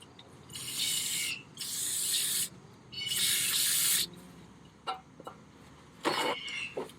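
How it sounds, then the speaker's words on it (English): AutoZone brake cleaner sprays from an aerosol can onto a trailer wheel hub in three long hissing bursts, then a few shorter spurts with small clicks and clatters in between, close and loud. "I figured I'd try a little AutoZone brake cleaner."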